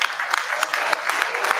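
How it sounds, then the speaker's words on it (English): Raucous applause from a crowd at the end of a talk at the Chaos Communication Congress in Hamburg, a steady, dense wash of clapping throughout, with faint talk mixed in. "You hear the applause."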